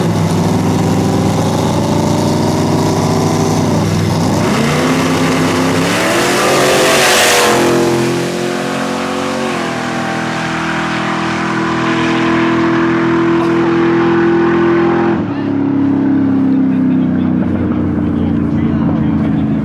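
A nitrous-fed Chevy Nova drag race car roars loudly, its engine revving and climbing in pitch, surging with a sharp burst, then sustaining a heavy drone before dropping off near the end.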